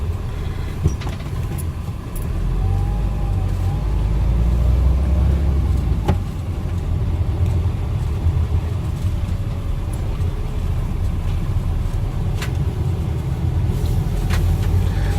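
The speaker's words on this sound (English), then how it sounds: "So this is driving through the centre of Castleton." A camper van driving through the busy centre of Castleton village, heard from inside as a steady low engine and road rumble throughout, with a few faint clicks and creaks over the top.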